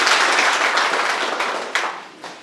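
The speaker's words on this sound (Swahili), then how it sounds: "Tupige makofi" Crowd applause at an outdoor political rally at Kiabonyoru Grounds, a dense wash of clapping that is steady and loud at first, then thins and fades, with a few sharper claps near the end.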